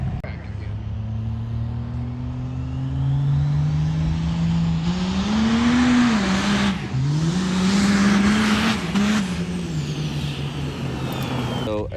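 A car strapped to a chassis dyno, running paddle tires, revs hard through a long pull with the engine note climbing, wavering and shifting. Speech is heard over the loud mechanical roar.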